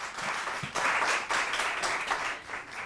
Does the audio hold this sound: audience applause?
yes